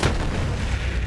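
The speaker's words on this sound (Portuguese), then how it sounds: "Mais explosões. Explosões funcionam muito bem." Dense, rumbling blasts fill the whole second, a continuous wall of booming explosions with no pauses between them, from the video game Borderlands 3.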